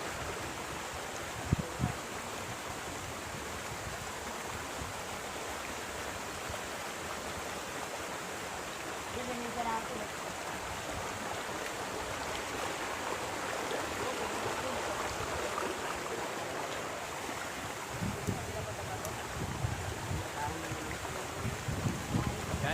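A river, the Jordan, rushes steadily outdoors with gusting wind buffeting the microphone, a constant broad wash of water and air noise for the whole stretch.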